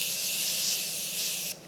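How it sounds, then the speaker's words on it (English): Morphe setting spray misted over a face in one continuous, close, hissing burst of about one and a half seconds. "I like to take my Morphe spray and I spray all over."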